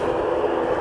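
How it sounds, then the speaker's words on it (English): Loganair aircraft at Aberdeen Airport, a steady broadband engine roar heard from a distance, unbroken for under a second. "That was a Logan Air."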